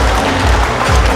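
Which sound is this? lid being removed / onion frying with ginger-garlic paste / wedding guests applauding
wedding guests applauding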